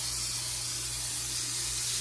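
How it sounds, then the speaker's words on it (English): Non-stick cooking spray hissing from a can onto a foil-lined baking pan, one short continuous spray close by, steady and unbroken. "I'm going to go ahead and do some non-stick spray on it"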